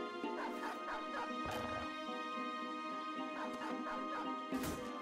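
Dogs bark and yip in the Battle Brothers video game, several short barks in quick bursts over continuous game background, fairly close and steady in level.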